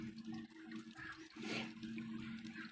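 Watery gurgling and bubbling of trapped air inside a PC water-cooling loop's 480mm radiators, with a low steady hum underneath and a brief louder rush in the middle.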